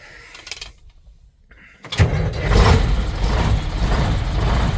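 A Ford C90 truck's Detroit 8V71 diesel engine catches and fires up after a quiet pause, then runs as a loud, close, rough idle with a low rumbling throb.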